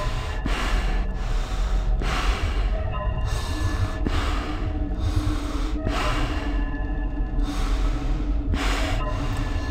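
Heavy rhythmic breathing from an animatronic character in the Five Nights at Freddy's 2 horror game, loud, repeated gasping breaths about once a second over a dense droning game soundscape.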